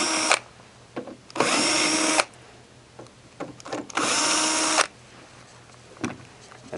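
A power drill backs out the bottom screws of a Santa Fe Compact2 cabinet during a blower replacement, with two long whirring runs among several short bursts and clicks of handling.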